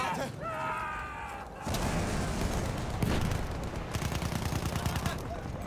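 Battlefield 1 gunfire during a Nivelle Nights conquest match, dense bursts and rattling volleys layered with booms and battlefield noise, loud and continuous, with faint voice chatter mixed in.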